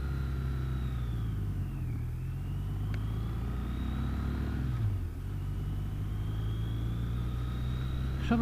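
A motorcycle accelerates away from traffic lights, its engine note climbing, dropping at gear changes and climbing again beneath a constant low rumble of wind and road noise.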